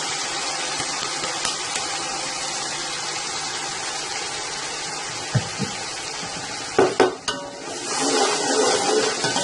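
Sizzling in a hot pan as onion and tomato paste goes in for Punjabi kadhi pakora, a steady frying hiss with a few brief clatters and stirring scrapes near the end.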